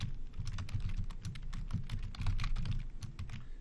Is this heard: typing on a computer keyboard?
yes